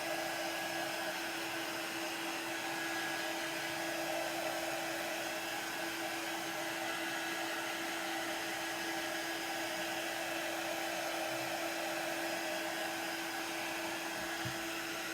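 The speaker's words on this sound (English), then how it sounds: "You can also use a hairdryer." A hair dryer blows steadily with a constant airy whine and hum, unbroken and fairly close, with no one talking.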